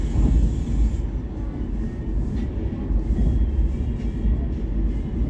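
Continuous rumble and rattle of a Garib Rath Express running at speed, heard from inside a 3AC economy coach, with dense low-frequency clatter and steady rolling noise throughout.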